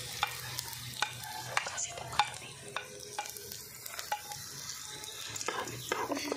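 Garlic frying in a pan while being stirred, with a steady soft sizzle and scattered clicks and scrapes of the utensil against the pan, close and fairly quiet.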